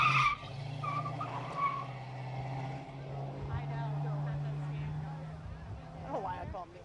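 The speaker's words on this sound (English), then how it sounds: "Nikki Akampora is in a 1971 Ford Mustang Mach 1 Ram Air 351." A 1971 Ford Mustang Mach 1 Ram Air 351 runs up a village hill climb course, its engine droning under a crowd cheering and a commentator talking, with the engine note rising and falling as it pulls away.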